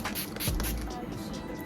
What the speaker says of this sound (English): So I'm just going to use a setting spray, green tea makeup fix.